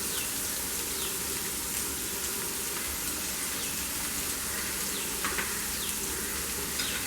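Finely chopped onions with cumin seeds sizzle steadily in hot oil in a pan, a constant crackling hiss with no breaks, close and fairly loud.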